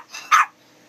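A parrot imitates a dog's bark, giving one short, sharp bark-like call with a faint lead-in, close and clear, with no talking.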